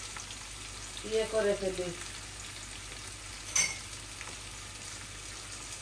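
Fish sizzles steadily in a frying pan, one side already browned, a soft continuous hiss under a brief stretch of nearby talk, with a single sharp clink partway through.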